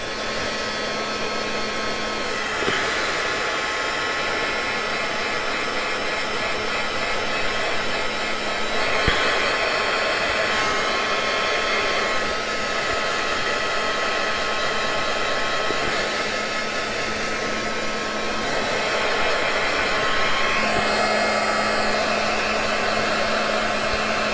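A heat tool blowing steadily to dry paint on acetate, a continuous loud whooshing hum with a faint whine, unbroken for the full length with no talking.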